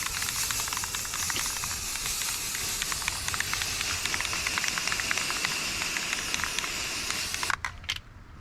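Neon Rust-oleum spray paint hissing from a can onto takedown fishing rod holders, one long continuous bright spray burst that cuts off abruptly near the end, close and loud with no talking.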